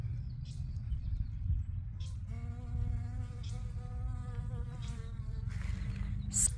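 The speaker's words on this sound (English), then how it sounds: "And the bees clearly love them." Steady insect buzzing from bees close by on pink pineapple quince blossoms, a continuous droning hum with rising and falling tones, no voices.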